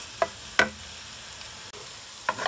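Brussels sprouts and onion cook in a pan without oil, stirred steadily, giving a quiet sizzle with three short scraping stir strokes spaced across the moment, close and fairly soft.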